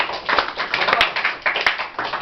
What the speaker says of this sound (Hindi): ताली बजाओ जरा जोर से।